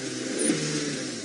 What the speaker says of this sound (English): I just revved the engine there to give Tayla an idea of where we are